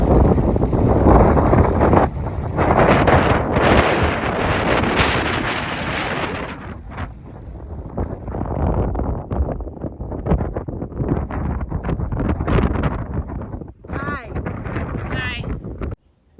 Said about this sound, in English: we stopped at this overlook, and it was windy